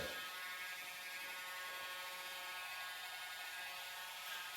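High, thin buzzing whir of a nail dremel held steady and running alone, faint and continuous with a faint tonal hum throughout.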